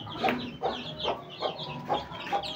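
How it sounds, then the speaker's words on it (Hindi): Young miniature chicks kept at home give short chirps and clucks. About six brief calls come in a fairly regular rhythm, close by and clear, with no talking. "ये वाले दो चूजे"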